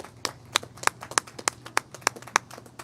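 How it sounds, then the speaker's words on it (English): Hands clap at a community gathering of a Unity congregation in Boulder, about ten crisp claps in a steady, even rhythm, fairly quiet and sparse rather than a full crowd, with no talking. "I want to give you a hand of applause"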